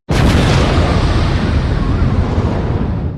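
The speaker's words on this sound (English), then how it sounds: "There should have been an explosion or something when our hands touched." An explosion special effect bursts in at once as a loud, dense boom and then holds as a long, roaring rumble that fades only slightly over about three seconds.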